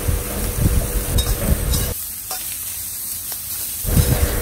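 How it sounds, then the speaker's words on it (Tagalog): Ground beef sizzles loudly as it is sautéed and stirred in a hot pan, a steady close frying hiss that eases briefly in the middle before swelling again, with no voices. "Habang piniprito, ginigisa ko siya"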